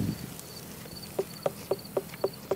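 Knocks on a melon in a garden to test whether it sounds hollow: about six evenly spaced dull hollow thuds, close and moderately loud, against faint outdoor insect chirping.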